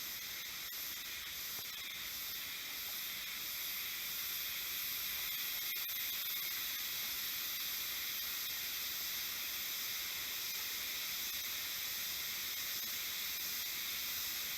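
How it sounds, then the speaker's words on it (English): A steady, loud, high-pitched buzzing drone of cicadas in a Japanese jungle near ancient Jomon caves fills the air without pause, continuous and unchanging throughout. "And you can hear all the cicada in the background."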